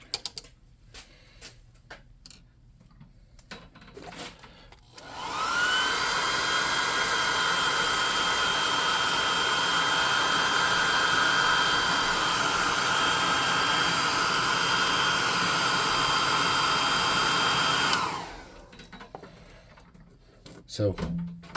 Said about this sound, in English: Rinse out that brush and dry that off with a hot air gun.